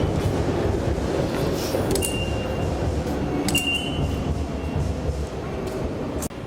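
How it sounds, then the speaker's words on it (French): A Tokyo subway train runs through a metro station near Omotesando and Shibuya, a steady rumbling roar with sharp metallic clinks and a brief high squeal, no talk. "La gare du métro, on dirait presque une gare normale, genre de TGV."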